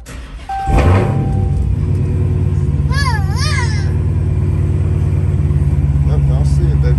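A Dodge Hellcat V8 idles steadily and loud after being driven earlier that day, not a cold start, with a deep continuous rumble throughout, a brief rev near the start, and someone talking over it.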